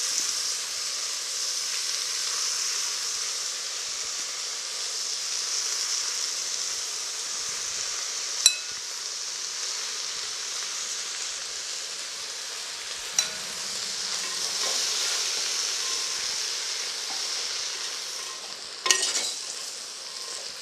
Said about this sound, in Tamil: இப்போ இந்த கீரை, வெங்காயம், தக்காளி எல்லாமே நல்லா வதங்கி வந்துடுது.